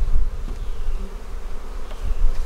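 A packed hive of honey bees buzzes in a steady, loud swarm as it is relocated to a bee barn, the close drone swelling slightly with occasional handling thumps and no talk.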